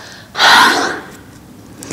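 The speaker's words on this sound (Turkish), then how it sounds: "Nefes verirken ağzından boşalt." A single forceful breath blown out through the mouth during a yoga breathing exercise, a loud close airy whoosh lasting about half a second, followed by quiet room tone.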